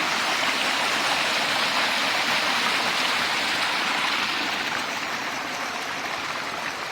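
Stream water flowing continuously, a broad steady rushing and splashing that is close and fairly loud, unbroken for the whole stretch with no voices.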